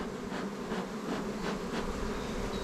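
Honeybees hum densely around a production beehive during a smoked hive inspection, a continuous close swarm buzz with no voices.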